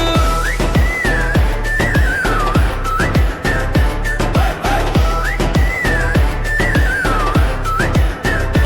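Bright whistle toots with rising, sliding pitch recur several times over a loud, driving drum-heavy Tamil political campaign song, blending into the music throughout.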